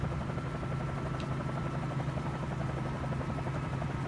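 A helicopter hovers over New York in a flight simulator game, giving a steady, droning rotor and engine hum with a low buzzing tone, constant and unbroken, with no voices.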